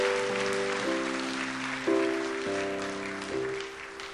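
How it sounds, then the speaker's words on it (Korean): A Korean Sunday church congregation claps while sustained organ or keyboard chords play over it, so the soft, steady applause sits beneath the changing held notes. "자 인사하고 들어갈 때 한 번 더 박수해 주세요."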